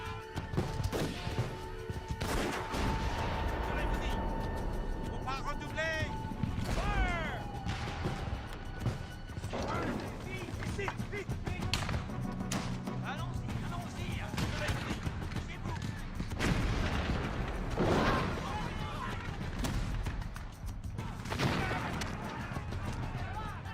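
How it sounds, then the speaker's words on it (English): French artillery bombarding a fort in a battle reenactment: repeated booming cannon blasts and crashing impacts in a loud, continuous barrage, with a narrator speaking over the din. "The French artillery proves devastating."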